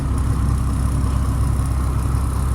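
Diesel engine of a 2007 Mack MR688S roll-off truck with a cracked exhaust manifold runs at idle after sitting about a year, giving a steady, close, loud low rumble with a slight pulsing beat.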